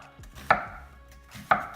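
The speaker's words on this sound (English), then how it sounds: "we're going to go ahead and begin slicing our onions" A knife slices through onions on a cutting board in two sharp, distinct chops about a second apart, close and clear with no talking.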